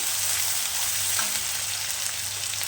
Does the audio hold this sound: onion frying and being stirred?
yes